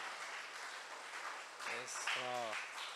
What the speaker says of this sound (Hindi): क्यों ना हम परमेश्वर के लिए जोरदार ताली बजाते हैं और धन्यवाद देते हैं